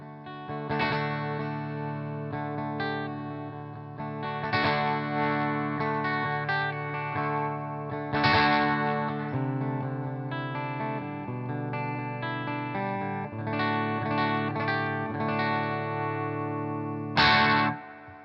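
Electric guitar through a 1987 ProCo Rat 2 distortion pedal with a gritty, lightly overdriven tone plays sustained chords and single notes, ringing out alone with a warm, slightly broken-up edge.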